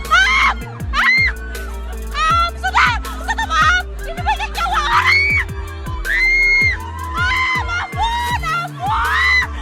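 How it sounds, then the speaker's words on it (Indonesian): Many bus passengers screaming and shrieking hysterically over one another during a bus-and-car chase, loud and continuous, above a low rumbling engine-like drone with rhythmic thumps. "Terdengar banyak teriakan histeris dari penumpang bus yang kejar-kejaran dengan mobil itu."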